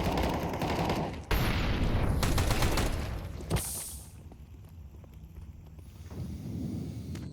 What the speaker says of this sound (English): Decent firing from Casanito.